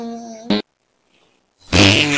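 Short bursts of fart noise from a novelty fart button, one brief blast, a silent gap, then a longer loud raspy burst.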